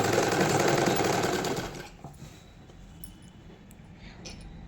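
A sewing machine runs a straight seam on a boys' night suit, a loud whirring burst for under two seconds that then stops, leaving a quiet room.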